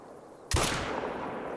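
Single sharp rifle report from a Kullman .22H in a hunting game, a loud crack at onset followed by a long, fading outdoor echo tail over quiet ambience.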